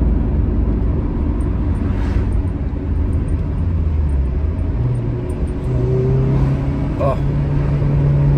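A Honda Civic FN2 Type R fitted with a Hybrid Racing cold air intake revs loudly nearby, its engine drone rising and sustained in a steady roar, with someone speaking briefly over it.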